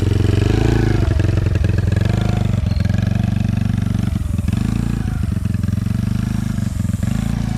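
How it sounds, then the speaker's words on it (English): A four-wheeler ATV engine runs steadily nearby, rumbling low with slight rises and dips in throttle as the vehicle moves slowly, no voices over it. "learning to drive the four-wheeler while we're here, and I hear him"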